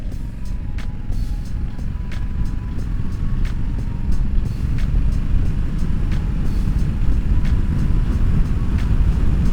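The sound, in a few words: Honda African Twin 1000cc motorcycle riding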